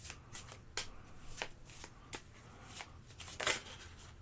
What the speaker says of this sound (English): This deck of cards gets shuffled up.